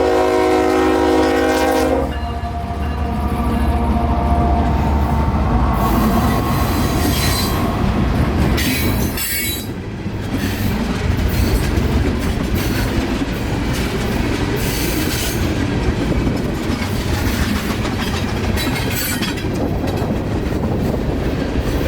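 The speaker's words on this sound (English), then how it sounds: "the juice train begins to gain speed," A CSX juice train gathers speed outside downtown Palmetto, a loud, continuous rumble of wheels and railcars close by, with a sustained horn blast at the start and a brief dip in the roar partway through.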